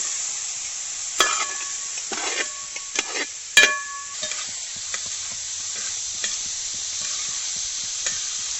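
A ladle stirs beef liver frying with ginger and garlic in a village-style pepper fry, giving sharp metallic scrapes and clinks against the pan over a steady sizzle, close and with no voices.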